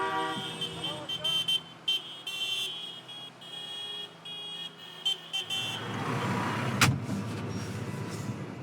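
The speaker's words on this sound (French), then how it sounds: "Je commence à entendre klaxonner." A convoy of farmers' tractors arrives at a protest, with repeated horn honks and toots, some long and tonal, followed by a rising roar of engines drawing near.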